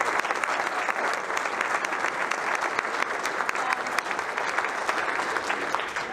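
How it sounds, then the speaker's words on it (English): An audience at a Minnesota discovery center exhibit opening applauds the musicians, steady dense clapping for the whole stretch, even and fairly close. "a round of applause for our musicians tonight"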